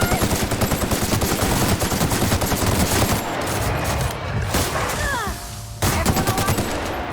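Rapid, loud shotgun blasts and gunfire from the sci-fi video game The Outer Worlds fill most of the stretch in dense bursts, briefly thinning to quieter combat noise before a final burst resumes.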